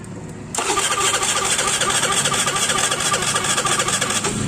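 An automatic scooter's electric starter kicks in abruptly after a brief quiet moment and cranks continuously, a close, loud, rapid whirring churn that never catches and settles into running; the scooter has a fault with no spark reaching the ignition coil.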